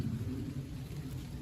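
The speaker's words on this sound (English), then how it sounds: "it's decided to rain now, and rain quite heavily." Heavy rain falling on and around an oak tree outdoors, a steady low, muffled wash of rainfall heard alone with no talking.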